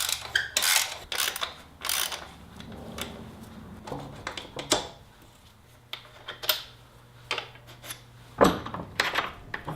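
Upper and lower mounting bolts being removed from a KTM rear shock during an upper shock bearing replacement on a workbench with a vise, heard as close, irregular metallic ratcheting clicks and clanks in short bursts with quiet gaps between.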